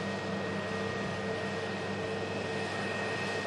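A Ryanair Airbus A321neo airliner taxiing after landing, its engines producing a steady, close, continuous whine and rumble with no talking.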